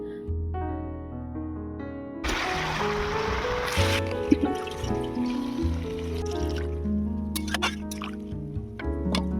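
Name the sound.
water poured into pan of potatoes and beans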